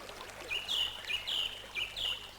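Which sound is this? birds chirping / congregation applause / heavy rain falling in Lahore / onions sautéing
birds chirping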